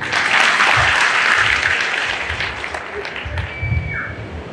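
Media members at a political press meet held by a former minister clap together in a sustained round of applause that gradually thins and fades, with faint voices underneath.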